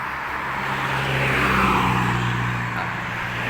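Steady road traffic rumbling past nearby in Si Chomphu, Khon Kaen, Thailand, a vehicle swelling louder in the middle then easing off, continuous and fairly loud.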